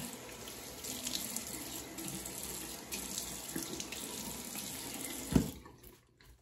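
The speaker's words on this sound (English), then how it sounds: "All right, going to rinse off that alum." A bathroom tap runs steadily into a sink while a face is rinsed after shaving, a continuous close splashing flow with a small clunk before the water cuts off near the end.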